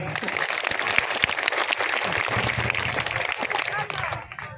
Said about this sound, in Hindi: जोरदार ताली बजा के उनका स्वागत करिए।